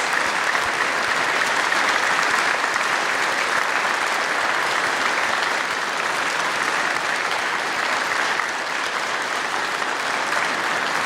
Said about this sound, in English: Let's recognize with our applause.